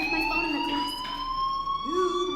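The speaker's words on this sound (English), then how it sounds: "do you hear that fire alarm?" Fire alarm in the video game Life is Strange, a steady high electronic tone with a sweeping lower pitch, ringing continuously throughout with a person talking over it.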